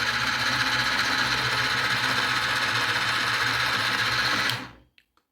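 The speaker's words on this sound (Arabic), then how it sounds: "هذه الموتور يدور" A chocolate fountain machine's motor whirs in a steady, loud drone, then winds down and stops abruptly, leaving near silence with a couple of faint clicks.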